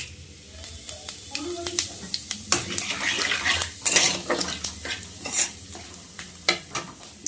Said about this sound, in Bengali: গরম তেলে শুকনো লঙ্কা তেজপাতা সম্বাদ দেব